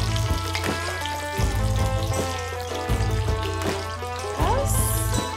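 Teasel gourd (bhat karela) pakoras frying in hot oil, a steady close sizzle with recurring low thumps and clinks from handling in the pan, brief bright crackles near the end.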